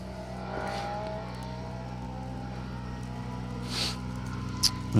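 A rally car engine hums steadily at a distance on an asphalt rally stage at night, its pitch shifting slightly as it approaches a time control, with a couple of brief sharp noises near the end.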